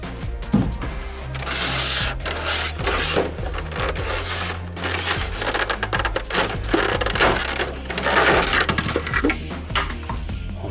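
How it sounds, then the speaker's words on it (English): Cardboard and plastic packaging of a Funko Mini Moments Seinfeld Jerry's apartment toy being dug open by hand, with continuous close crinkling, crunching and tearing in busy irregular bursts, loud and without talk. "You can just kind of dig into the packaging here without having to cut any seals."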